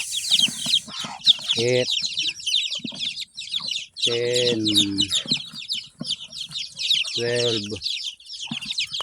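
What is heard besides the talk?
pet chicks and hens clucking while being moved to coop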